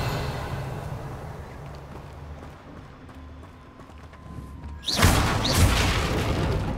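A Revelio spell cast in Hogwarts Legacy: quiet ambience then a sudden loud whooshing burst with a shimmering boom that lingers briefly.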